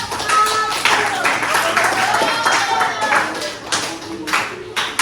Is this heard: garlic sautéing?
no